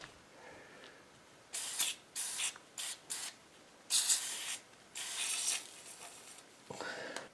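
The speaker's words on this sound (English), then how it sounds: "PB blaster." PB Blaster penetrating oil sprayed onto a stuck lug nut in a series of short, close hissing bursts of varying length, separated by brief quiet pauses, with no talking.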